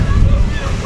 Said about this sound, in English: look at the waves today